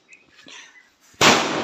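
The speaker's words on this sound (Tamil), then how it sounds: "அது வெடி" A Diwali firecracker bursts outdoors during a family celebration: after a few quiet, faint sounds, one loud, sudden bang erupts nearby and trails into a sustained crackling hiss.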